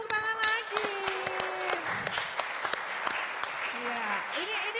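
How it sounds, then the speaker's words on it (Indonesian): Thunderous applause at a university public lecture, sustained crowd clapping at moderate loudness with speech and whistle-like vocal tones over it. "ini tepuk tangannya udah sangat bergemuruh"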